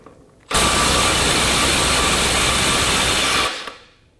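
A cordless Makita XWT14 18V impact wrench breaking loose nuts torqued to 430 foot-pounds, giving a loud, steady, continuous hammering whir for about three seconds before it cuts off and winds down, with no talk over it.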